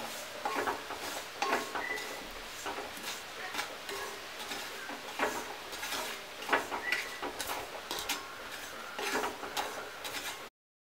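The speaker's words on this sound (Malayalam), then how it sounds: "ഒരു ടീസ്പൂൺ കായപ്പൊടി ചേർക്കാം നന്നായിട്ടൊന്ന് ഇളക്കാം" A spoon stirring asafoetida powder into Kerala-style mango pickle, with irregular scraping and clinking against the container, close up and fairly quiet, with no talk.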